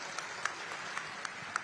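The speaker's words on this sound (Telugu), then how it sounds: "అందరూ కూడా గట్టిగా చప్పట్లు కొట్టి ఆశీర్వదించండి" Audience applause at a public gathering, a faint, steady wash of clapping with a few sharper individual claps popping out near and far.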